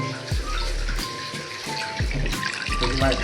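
Ice-cold water pours steadily at a mountain waterfall on the road from Bomdila toward Dirang, a continuous close splashing rush with a melody playing over it.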